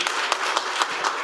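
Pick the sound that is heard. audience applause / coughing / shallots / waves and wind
audience applause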